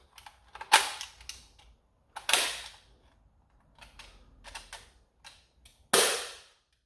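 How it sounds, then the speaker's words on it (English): A toy blaster fires three sharp, loud pops spaced apart, with clicking and rattling handling noises between shots. "That's a pretty loud pop"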